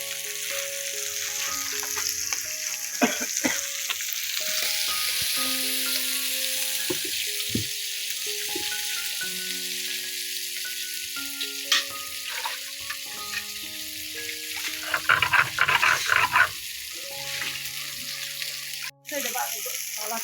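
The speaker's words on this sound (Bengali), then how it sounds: "এই যে নামাইতেছি মাছ, ভাজা মাছ হয়ে গেছে, নামাই দিলাম।" Tilapia fish fries in hot oil with a steady, fairly quiet sizzle and crackle throughout, broken by clinks and scraping of utensils, with brief background sounds mixed in.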